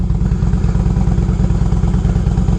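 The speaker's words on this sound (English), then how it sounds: "you can still hear the motorcycle" Motorcycle engine captured by a helmet-mounted camera, a steady loud close-up thrum with a fast, even pulsing rhythm and constant wind rush, running alone with no voices.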